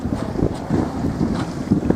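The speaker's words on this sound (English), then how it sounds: "The sea, I would call it, is sloppy sea with big waves and sometimes big freak waves." Rough, sloppy sea with big waves sloshing around a sailboat at sea, bound for Palma in the Mediterranean, with steady wind buffeting the microphone in a constant dense roar.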